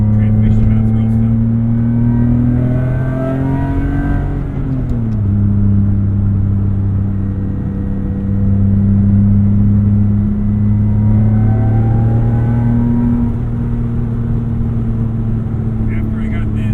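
A BMW E46 M3 track car with CSL intake, headers and exhaust drones steadily from inside the cabin, its engine note dipping and shifting with throttle and gear changes while people talk over it.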